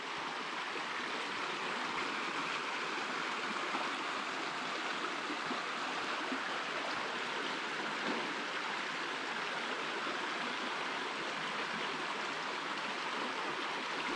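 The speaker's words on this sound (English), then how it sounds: "Listen to that beautiful river." A river in Arminou village, Cyprus, rushes steadily near an old stone bridge, giving a dense, even wash of flowing water that holds constant and fairly loud for the whole stretch, with no voices.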